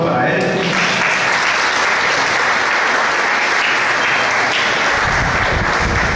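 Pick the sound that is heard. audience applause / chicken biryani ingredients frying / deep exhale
audience applause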